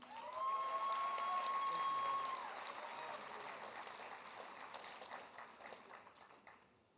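An audience applauds at a teacher-of-the-year awards ceremony, with dense, sustained clapping that holds steady and then gradually fades, while a voice speaks faintly underneath.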